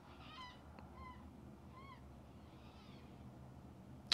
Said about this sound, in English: There's a chicken or something dying.